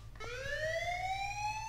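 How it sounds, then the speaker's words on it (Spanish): Rising electronic alarm siren in the heist video game Payday, a steady loud wail sweeping upward in pitch with rich harmonics, sounding continuously and alone. "Está la sirena."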